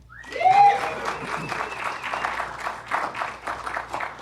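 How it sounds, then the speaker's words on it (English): Applause from an audience at a film screening of Mel Brooks' 1967 comedy The Producers, moderate, scattered clapping from a modest crowd following a brief whoop or voice at the start. "This is where you applaud."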